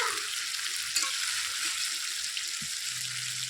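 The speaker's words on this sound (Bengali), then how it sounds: "চিকেনটা কিন্তু কষানোই মেন, ভালো করে না কষালে কিন্তু খেতে ভালো লাগবে না।" Chicken sautés in a hot pan for a Marathi-style chicken dish, a steady bright frying sizzle with soft scraping stirs throughout, close and continuous.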